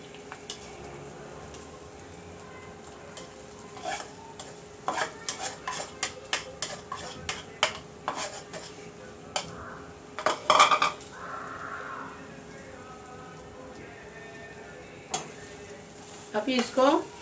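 Grated coconut roasting in a hot pan for a Konkani-style sweet, with clinking spoon-on-metal scrapes and stirring strokes in irregular bursts over a faint sizzle, close by, with someone speaking at times.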